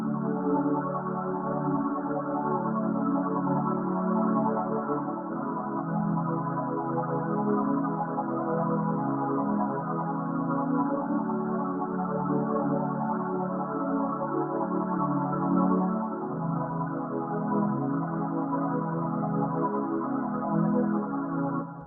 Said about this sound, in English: next thing we got is a pad from Analog Lab